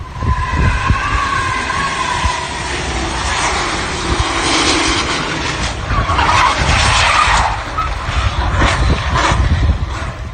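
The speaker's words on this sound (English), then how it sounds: "Watch as a Toyota 4Runner comes flying into scene, shedding car parts along the way." A Toyota 4Runner crashing through a car wash parking lot into a street, with loud skidding tires and a roaring engine, then a sustained scraping, rumbling burst of impact noise that lasts throughout, with no talk.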